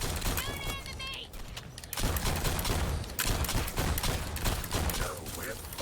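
Cannon firing in a video game, a dense barrage of rapid booming shots and crackling blasts that continues over the whole stretch, with a voice talking over part of it.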